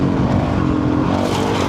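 A motorcycle engine roars steadily up close, a continuous throaty drone building speed with no voices over it.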